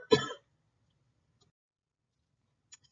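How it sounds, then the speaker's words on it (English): A single short, sharp cough with a throat-clearing rasp at the very start, followed by near silence and a faint breath or sound at the end. "Sorry, I had to cough."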